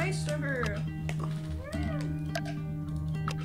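A cat meows in a room while someone talks over it, several short rising-and-falling calls heard near and clear under the speech.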